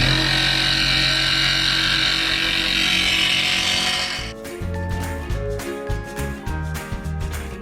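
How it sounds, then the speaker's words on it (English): A jigsaw blade cuts through the metal roof of a Citroën Relay campervan. The first half is a loud, steady, buzzing cut. After that it turns choppy, with repeated short bursts and stops. "we're going to let Jamie do the jigsaw because he done such a good job at the windows"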